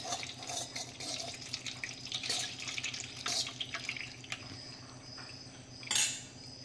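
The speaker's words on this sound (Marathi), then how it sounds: "आता याच्यावर लगेच आपण थोडंसं गार पाणी घालून घेऊया।" Cold water is poured over steamed roselle leaves in a kitchen, giving a steady, fairly quiet splashing trickle that runs throughout, with a brief louder gush near the end.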